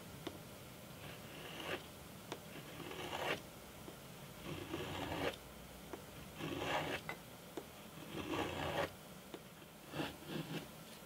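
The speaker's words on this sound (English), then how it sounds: "I'm just going to chamfer the edge." Edge of a wooden guitar bridge plate being chamfered by hand during an acoustic guitar build, with repeated close rasping strokes in a steady rhythm of roughly one stroke per second.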